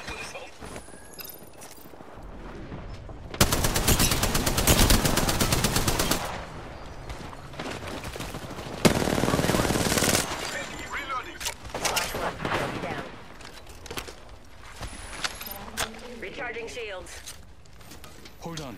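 Bursts of automatic gunfire crackle in an Apex Legends match, two long loud volleys separated by quieter shots and mechanical clicks, with game voice lines and chatter around them.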